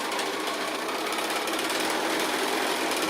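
A sewing machine chain-piecing fabric squares for a half-square-triangle quilt runs at a fast, steady, continuous whir, loud and close, with no talking.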